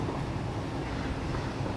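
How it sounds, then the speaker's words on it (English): A self-driving train in Satisfactory runs at about 148 km/h, giving off a steady low rumble and rolling noise, continuous and fairly loud with no breaks. "So the train drives itself."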